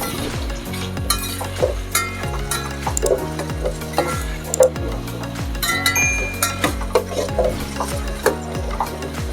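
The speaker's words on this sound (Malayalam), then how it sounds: "നമുക്കിതെല്ലാം കൂടെ എണ്ണയിലിട്ട് നന്നായിട്ടൊന്ന് മിക്സ് ചെയ്യാം." Tomatoes stirred in hot oil in a pan for a Kerala sadya sambar: loud, rhythmic scraping strokes with metallic clinks over a continuous frying sizzle, close up, with no one speaking.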